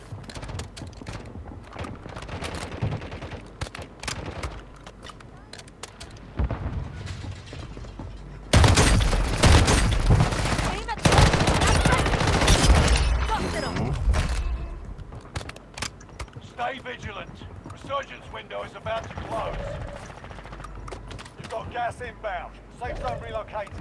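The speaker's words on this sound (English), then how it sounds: "Friendly airstrike in the AO" Friendly airstrike explosions and gunfire in Warzone Mobile, a battle royale shooter, with a long loud burst of blasts and shots in the middle, surrounded by scattered quieter gunfire and game sounds, while a voice talks throughout.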